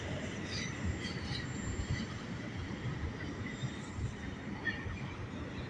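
End of a long Buffalo and Pittsburgh freight train rolling by, bound for Punxsutawney, Pennsylvania: a steady, moderately distant rumble of railcars with high wheel squeal running through it.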